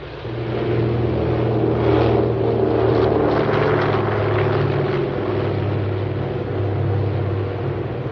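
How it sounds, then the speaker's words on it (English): Steady, loud engine drone of aircraft launching to support Marines in Korea, a deep propeller hum with a rushing roar rising and falling slightly throughout. "And the planes are launched to support the Marines at the front."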